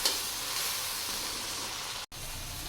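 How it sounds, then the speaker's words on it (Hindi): Okra sizzling steadily as it fries in a pan over a medium flame, a continuous close hiss broken by one brief silent gap near the end. "अब थोड़ा सा इसको हम और फ्राई करेंगे।"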